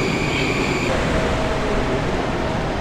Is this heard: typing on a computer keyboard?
no